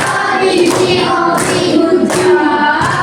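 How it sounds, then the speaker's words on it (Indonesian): A group of pupils in a sixth-grade maths classroom clap together for another group, a dense, steady patter of many hands lasting throughout, with a couple of surging swells. "Kita kasih tepuk good job"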